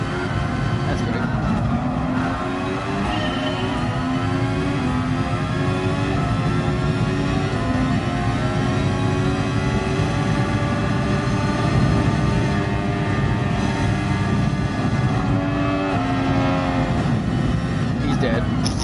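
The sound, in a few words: F1 race car engine, from a first-person racing video game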